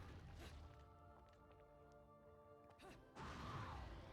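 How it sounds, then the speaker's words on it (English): A stone golem in Bayonetta slams its bowl onto the ground, giving a heavy crash near the start and another loud impact just after three seconds, both over sustained tonal game music. "you will find this golem smashing his bowl down to the ground"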